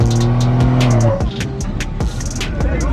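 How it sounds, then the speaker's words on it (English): Truck at a truck meet trying a burnout, engine revving hard then dropping off, followed by scrappy tire squeal and skidding bursts, loud and close with some voices mixed in. "I guess this guy's trying to do a burnout, but he can't."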